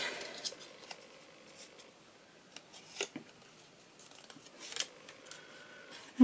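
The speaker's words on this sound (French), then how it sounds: "Je vais venir marquer les plis tranquillement." A bone folder creases the folds of a handmade watercolor card, giving soft, sparse scraping and rubbing strokes, close and quiet, with a brief sharper knock at the very end.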